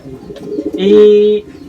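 A single close, loud racing pigeon coo: a short burbling lead-in followed by a sustained throaty hum that cuts off abruptly.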